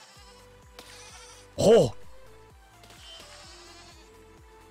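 A single loud sheep bleat cuts through a low droning game soundtrack with rhythmic thumps, and a brief exclamation from a person is heard.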